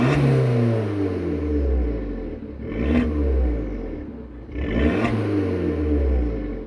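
A Fiat 500 Abarth engine revs up through the gears, rising in pitch with two clear gear changes, the engine note loud and close inside the car.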